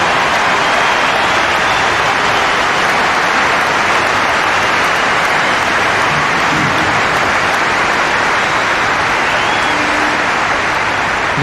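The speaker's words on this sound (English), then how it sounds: "I think we deserve an applause." A stadium crowd at a Manchester United testimonial match applauds in a loud, dense, continuous wash of clapping that holds steady from start to finish with no speech on top.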